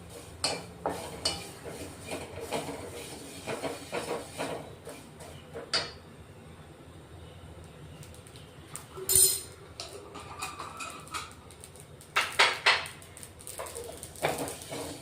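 Whole spices are dry-roasted and stirred in a pan for a Marathi-style masala, with scattered scrapes, clinks of a spoon against metal and a soft rustle of tossed spices, fairly close and not loud.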